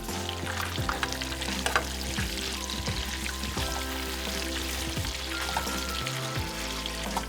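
Thin, delicate crappie fillets sizzle steadily in half a stick of browning butter in a pan, a close, continuous frying crackle with soft scraping stirs and no voices.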